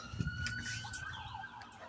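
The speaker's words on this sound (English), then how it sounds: "Oh, ambulance." An ambulance siren sounds from a distance, a thin, steady wailing tone held throughout over low background rumble, with no voices.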